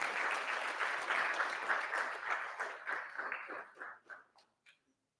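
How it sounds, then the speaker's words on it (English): A crowd at a corporate annual general meeting applauds, a full burst of many hands that holds for a few seconds then thins into scattered claps and fades to silence. "A big round of applause, ladies and gentlemen."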